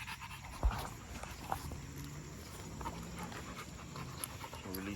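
A dog pants steadily and close by, in quick rhythmic breaths, outdoors during a hunt with faint footsteps and a few small knocks around it.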